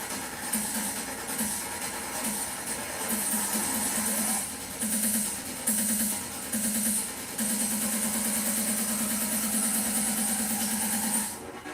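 The engine of a JCB construction machine runs steadily throughout at a Monster Jam pit party, a close, continuous mechanical drone whose pitch rises and falls slightly as it revs, with crowd noise faintly behind it.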